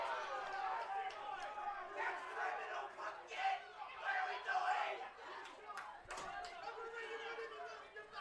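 A crowd at a women's college soccer match groans and murmurs in displeasure, a broad rumble of many voices that rises and falls, with a commentator talking over it.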